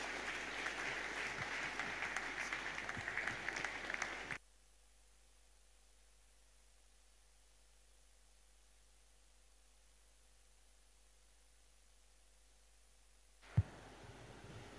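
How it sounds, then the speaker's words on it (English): A church congregation claps for the preacher during a service, a dense, steady wash of applause for about four seconds that cuts off abruptly, leaving near-silence with a faint hum, then one sharp knock near the end. "Let's clap for Jesus."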